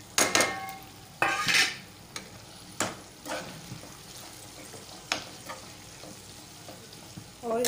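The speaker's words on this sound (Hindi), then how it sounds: "हमारी शिमला मिर्च जो है वो भी सौते हो गई हैं, तो हमारा जो मसाला है जो हमने पीस के रखा था वो हम इसमें डाल देंगे" Ground masala tipped into sautéed capsicum in a kadai, bursting into a loud sizzle with metal spoon clangs and scrapes against the pan, then a steady softer frying hiss.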